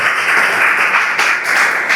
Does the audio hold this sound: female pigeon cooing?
no